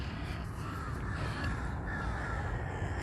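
Crows caw repeatedly at a moderate distance over a constant outdoor hum at an organic vegetable garden, with no voices present.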